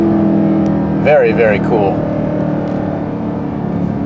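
Dodge Durango SRT 392 V8 engine revving and holding near the redline, a steady loud engine drone throughout with someone talking briefly over it.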